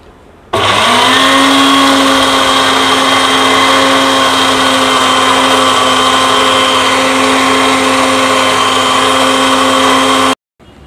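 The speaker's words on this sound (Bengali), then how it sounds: "তো এখন আমি ব্লেন্ড শুরু করে দিচ্ছি।" A blender whips egg and soybean oil into mayonnaise, a loud, steady high-pitched motor whir that starts abruptly, holds unchanged for about ten seconds, then cuts off.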